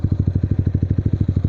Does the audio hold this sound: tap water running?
no